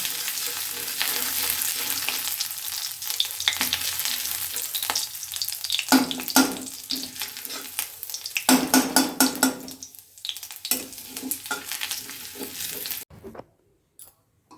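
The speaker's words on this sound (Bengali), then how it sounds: "একটুখানি আদাটাকে ভেজে নেবো" Ginger sizzling in hot oil in a pan while making khichuri, a loud steady crackling fry with occasional stirring and brief pauses, ending in quiet.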